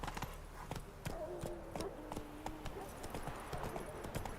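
Roach, the horse in The Witcher 3 video game, clip-clops along at a steady gallop, hooves striking in a quick regular rhythm at moderate distance, with faint game ambience and occasional low voice murmur beneath.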